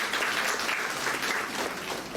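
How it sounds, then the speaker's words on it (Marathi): Audience applause honouring judges at a felicitation event, a dense, steady clapping from a large crowd that holds at an even level throughout. "जोरदार टाळ्या वाजवा."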